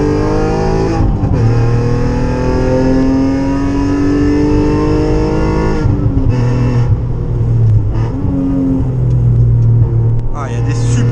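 Alfa Romeo 147 GTA engine revving on a road test, a loud, steady rumbling drone that rises and falls in pitch through the clip, with a voice talking over it.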